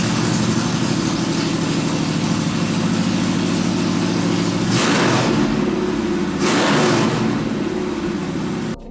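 A loud, rough rat rod car engine runs close by outdoors, roaring and revving steadily with a heavy low rumble throughout, its pitch shifting briefly a couple of times.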